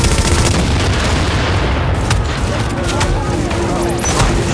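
Gunfire from enemies in The Division during a refugee camp mission, dense rapid shots and booming reports filling the whole stretch, loud and continuous with brief high electronic beeps near the end.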